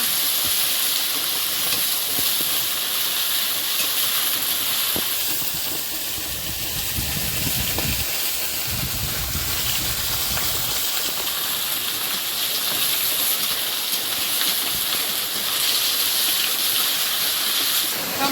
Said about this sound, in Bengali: প্রচুর বৃষ্টি হচ্ছে ভীষণ ধারা হয়েই যাচ্ছে